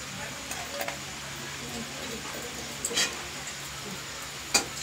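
Chopped onion frying in a pan for chicken momo makes a faint, even sizzle, broken by a few soft clinks of a utensil.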